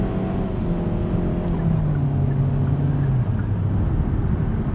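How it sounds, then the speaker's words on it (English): A 2020 Kia Soul X-Line with a CVT drones under full throttle, a loud, sustained engine hum holding a steady pitch inside the cabin over heavy road noise. "Guess I'm not really selling you guys on the CVT by doing all these full throttle runs"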